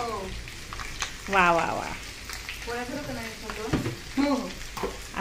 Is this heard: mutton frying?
yes